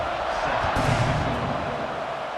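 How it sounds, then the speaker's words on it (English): Buzzing stadium crowd in EA Sports College Football 26 during UNC vs Texas Tech after a score, a constant loud roar with a brief thumping swell near the middle. "this crowd is buzzing after that last score"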